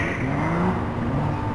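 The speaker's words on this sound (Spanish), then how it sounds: "Hay un carro por ahí." A car in the video game APB Reloaded drives nearby with a low rumbling engine drone and broadband road noise, continuous and fairly close for a brief moment.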